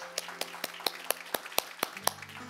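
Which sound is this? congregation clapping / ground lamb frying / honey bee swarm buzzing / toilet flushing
congregation clapping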